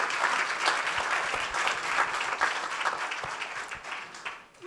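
Audience at a ten-year anniversary event for Pro Emploi, a French employment organization, applauds steadily for several seconds, a dense even wash of clapping that tapers off at the end.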